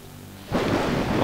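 A deep rumble of thunder in a video game rolls in suddenly after a quiet start and keeps swelling, broad and booming.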